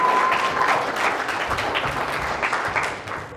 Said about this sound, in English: let's give a round of applause to Armin before I continue going on.